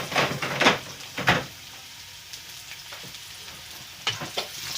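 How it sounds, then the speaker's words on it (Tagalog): Onions sizzle and fry in a pan with several bursts of stirring and scraping, near and moderately loud, settling into a steady quieter crackle between stirs. "Kaya ang gagawin natin, magigisa tayo ng sibuyas."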